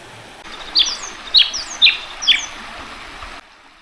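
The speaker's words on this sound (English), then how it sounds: "What a beautiful sounding bird." A bird sings beside a trout creek, four clear bright chirping phrases evenly spaced over a few seconds, close and distinct above a soft steady wash of running water.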